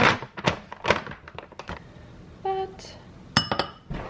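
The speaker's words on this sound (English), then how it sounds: "and then a scoop of this yogurt on top, and then I just mix it all together" Spoon clinks against a bowl while oatmeal is stirred together with vanilla protein powder and yogurt, a series of sharp, close ceramic taps in an irregular rhythm, with a brief ringing chime partway through.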